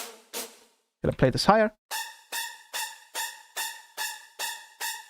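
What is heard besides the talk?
Phase Plant synth preset emulating strings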